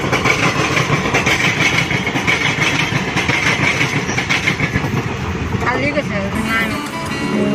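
A passenger train runs along near the listener, its steady loud rumble and rattle filling the whole stretch without a break.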